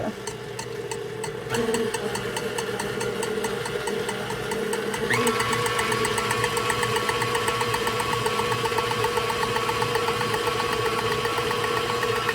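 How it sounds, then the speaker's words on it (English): Electric mixer whipping cream at medium speed, setting four, a loud steady motor whine running throughout, which shifts pitch partway through as the beaters work, with no voices. "we're going to put our mixer on a medium speed, about a 4"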